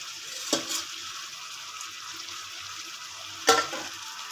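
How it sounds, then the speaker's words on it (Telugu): Chicken simmering in a pot with yogurt added for biryani, giving a steady soft sizzle and bubbling with two brief louder stirring clatters near the start and toward the end. "ఇప్పుడు ఉడుకుతున్న చికెన్లో కొద్దిగా పెరుగు వేసుకోవాలి"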